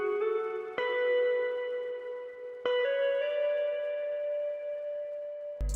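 Sustained melodic guitar notes drenched in Valhalla Supermassive and Vintage Verb reverb, two plucked attacks blooming into long shimmering tails that hold steady and loud throughout, ending with a sharp cutoff.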